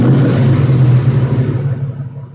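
Car engine running and revving during EFI tuning, a loud close rumbling drone with a strong low hum that eases off and fades toward the end.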